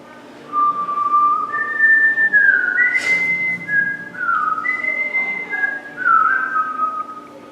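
A person whistles the Star Wars theme song alone, a clear melodic run of sustained notes rising and stepping down, close and steady for several seconds.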